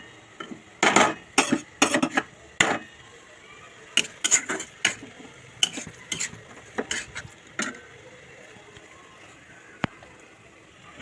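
Metal pan lifted off a stove after Maggi masala is stirred into a chicken roll filling, with a series of sharp clanks, scrapes and clinks close up, thinning into sparse knocks toward the end.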